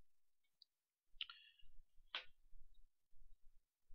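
A computer mouse clicking, two sharp close clicks about a second apart in near silence, with faint soft tapping around them.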